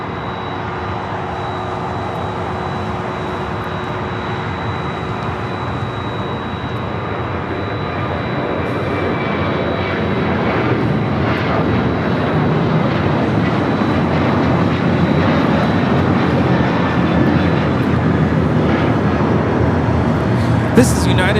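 A LATAM Boeing 767-300ER jet airliner taxiing on a taxiway at LAX, bound for Lima: a steady, broad engine roar with a faint high whine, growing slightly louder over time, with no talk.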